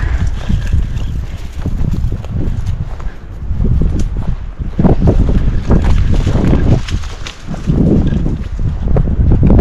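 Wind blows across a mountain meadow at Fork Ridge, a loud, steady roar with gusty buffeting against the microphone that swells and eases throughout.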